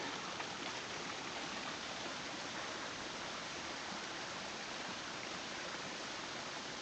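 Water of the Trough waterfall near a railway tunnel pours in a steady, dense, unbroken rush, loud and close, with no voices.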